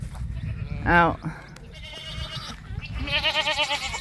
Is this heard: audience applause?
no